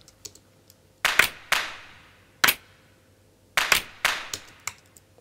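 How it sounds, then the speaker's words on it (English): Layered hand claps, a human-effect clap stacked with World Asian kit claps under shared reverb, firing in an irregular pattern of sharp, bright hits with short echoing tails and no voices. "And together with the human effect hand clap,"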